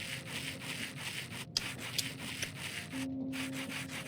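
Sandpaper scraping in the Minecraft Create Aeronautics mod: steady, close rubbing with a brief gap and a faint tonal hum toward the end, no voices.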